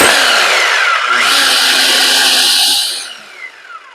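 A power tool roars loudly and steadily for about three seconds, its pitch shifting as it runs, then winds down and falls quiet.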